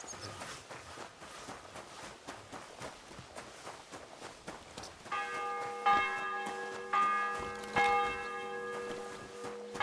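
A church bell tolls repeatedly in the medieval video game Kingdom Come: Deliverance II, its ringing strikes entering midway over steady footsteps and continuing loud and resonant to the end.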